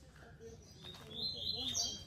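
Coleiro baiano songbirds chirping and trilling in short high phrases over low background rumble, moderately close, with brief murmurs of talk in the background.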